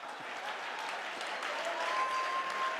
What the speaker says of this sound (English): Come on, clap your hand.